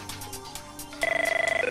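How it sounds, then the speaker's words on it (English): Telephone ringing on a TV quiz show studio, a rapid electronic warble of bursts starting midway and repeating steadily, loud and close after a stretch of quieter studio sound. "We have a caller. Where's the phone?"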